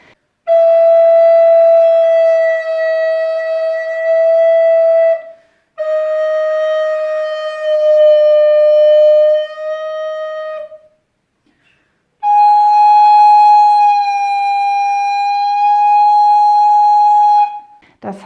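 Recorder notes sustained in three long phrases, each tone wavering with a gentle flattement finger vibrato, clear and close with short pauses between.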